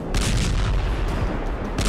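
Heavy rumbling blasts from fighter jet missile strikes on military sites roll continuously, a dense, loud booming barrage with deep low-end thuds and no voices.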